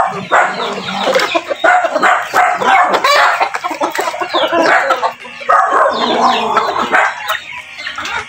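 Hens and roosters in a freshly moved breeding pen of ten hens and two roosters cluck and squawk busily and close by, with overlapping calls throughout and a dog barking among them.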